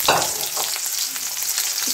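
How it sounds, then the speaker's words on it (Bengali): Leafy greens with plenty of chopped garlic frying in a pan, a loud steady sizzle with a scraping stir at the start, close and unbroken. "একটু নাড়া দিব"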